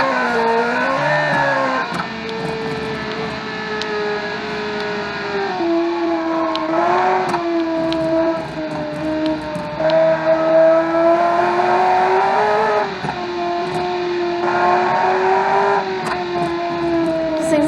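A rally car in a 2012 small-island rally video game roars with a loud, continuous engine drone that rises and falls as it accelerates and shifts, with occasional tire noise and no talking.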